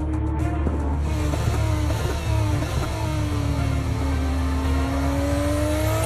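A Formula 1 car from the F1 23 game drives fast at Sanford, its high engine whine loud and continuous, pitch sweeping gradually as it accelerates, with no talking.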